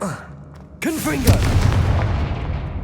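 A Confringo blasting curse in Hogwarts Legacy bursts into a loud, close explosion, a sudden boom with a rumbling, crackling tail that lingers to the end, and a brief spoken voice comes just before it.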